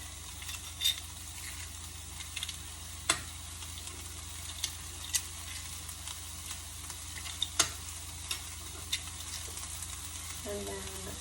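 Garlic sizzling in a pan under a continuous soft frying hiss, with scattered sharp clicks of a utensil stirring it, fairly quiet and close, with no talking.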